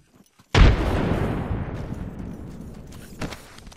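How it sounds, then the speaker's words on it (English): A grenade detonates in a video game firefight with a sudden loud boom and a long rumbling decay, followed by a second, smaller sharp burst near the end. "Look out, grenade."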